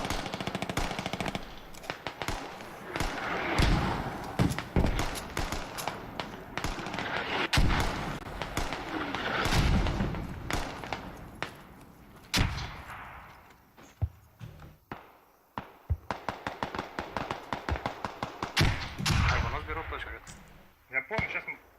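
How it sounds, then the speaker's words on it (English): Rapid machine gun fire in a competitive video game match, repeated bursts of sharp reports, some close and loud and some farther off, under continuous commentary. "People's actually getting killed on this machine gun shooting across the way."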